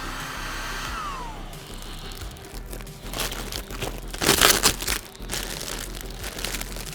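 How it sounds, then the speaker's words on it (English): A heat gun blows a steady, loud airy roar while warming plastic sheeting on a hanging corpse Halloween decoration. The plastic crinkles and crackles in bursts as it shrinks, with no speech. "I'm getting some sinewy looks, all from that heat gun, wilting that plastic"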